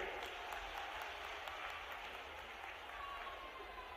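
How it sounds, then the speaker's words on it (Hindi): A crowd at a government land-rights scheme launch in Madhya Pradesh claps for the Chief Minister, a faint, steady patter of applause spread out and distant, with a low hum underneath. "माननीय मुख्यमंत्री शिवराज सिंह चौहान जी, एक बार जोरदार ताली बजाइए।"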